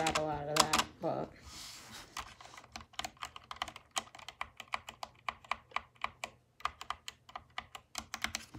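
Rapid keystrokes on an SK61 60 percent keyboard with linear switches, sharp clicky taps in a steady irregular rhythm, close and clear, with a slight rattle; a brief voice sounds at the start.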